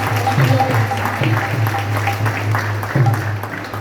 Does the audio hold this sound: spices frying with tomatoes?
no